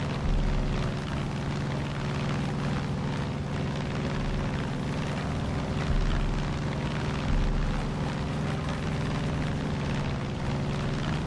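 A steady, loud drone of an airplane flying in Far Cry 5, with a propeller engine hum and wind rush throughout, up close and with no voices.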